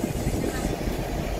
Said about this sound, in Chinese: 蒸汽火车3点56分